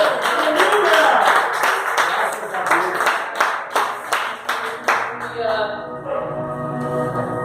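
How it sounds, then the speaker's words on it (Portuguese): Congregation at a Pentecostal healing and deliverance service clapping, sharp claps for about five seconds over voices, then fading as sustained tones and talk take over. "Aplauda esse Deus poderoso."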